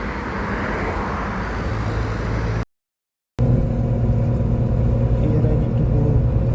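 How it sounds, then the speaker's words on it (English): Public bus arriving at a stop in Malta, a loud rumbling engine and road noise, cut by a brief gap of silence before the heavy rumble returns, with people talking over it. "Now the bus is coming."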